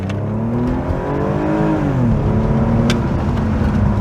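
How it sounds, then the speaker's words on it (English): BMW E46 330ci with the M54 straight-six engine revving up and easing off, a loud, steady, close engine note that rises and falls smoothly over a few seconds, with no talk. "Oh, we do love a good straight six engine. The sound is definitely the coolest part about this car."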